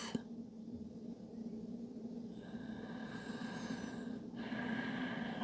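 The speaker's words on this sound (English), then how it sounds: "Extending your inhales and your exhales, listening to that sound." Slow, steady breathing, long drawn inhales and exhales in a calming stretch wind-down, a soft continuous airy rush close to the listener with no talking.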